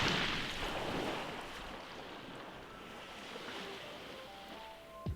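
Ocean waves at Miss Peck Beach in the Saint John region of New Brunswick, a soft, distant wash of surf mixed with wind buffeting the microphone, fairly faint and steady with no talk.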